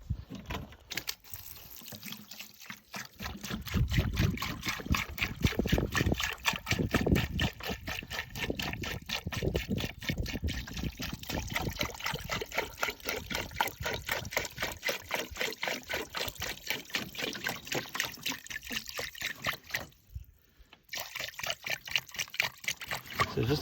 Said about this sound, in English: We're just going to cover it with some water